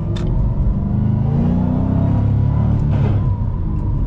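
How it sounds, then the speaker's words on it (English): A 2007-2009 Ford GT500 engine is held at high RPM while failing to shift, clutch fully in, giving a loud steady revving drone with a couple of brief whining surges, close by and with no talk. "Just high RPM, tried to shift, clutches all the way in. Car does not want to go into gear."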